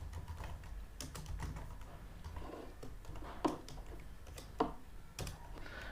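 Close, soft keystrokes on a computer keyboard as a value is entered into a Python input prompt, several irregular taps with brief pauses and no talking.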